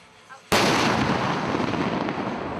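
A tank's main gun fires once on a firing range, a sudden massive blast right after a short lull, followed by a long rolling rumble that fades slowly.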